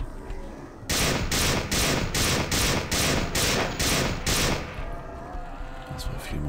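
Rapid bursts of automatic gunfire in System Shock 2, about ten evenly spaced loud shots in a steady rhythm over a high whine, then stopping abruptly and leaving a quiet tail.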